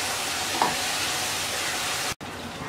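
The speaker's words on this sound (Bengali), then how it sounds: "এবার মশলাটাকে কিছুক্ষণ কষিয়ে নেব।" Spice paste sautéing in a pan for doi potol, pointed gourd in curd: a steady, even sizzle and fry close by, with one faint stir near the start and a brief dropout near the end.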